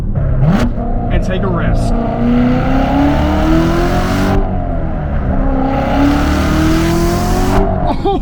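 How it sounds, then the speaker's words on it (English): A 2017 Corvette Z06 with a manual gearbox blips and revs hard through a downshift, the loud engine note climbing in pitch, dropping, then climbing again, with a voice talking over it from inside the car. "sometimes you just gotta downshift"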